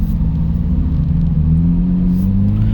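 Deep, steady exhaust rumble from a C8 Corvette Z06 fitted with sport cats, a loud low drone that swells slightly as the engine pulls, heard from close by inside the car with no talking.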